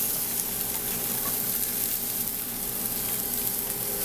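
Celery, onion, ginger and garlic sizzle steadily in a hot pan, a continuous soft crackling hiss heard close up with no talking.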